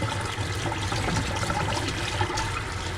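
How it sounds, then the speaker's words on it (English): Warm water runs steadily from a tap while a tie-dye shirt is being rinsed, a continuous dense splashing rush that holds the same level throughout, with no voices. "get the hot water flowing, warm water flowing"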